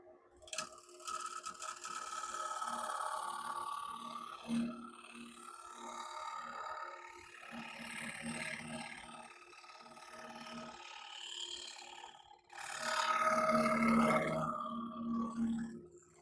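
A Harbor Freight wood lathe turns a rough pine and plywood bowl while its outside is smoothed, giving a steady whirring drone with scraping tool contact that swells and fades, then grows louder again near the end.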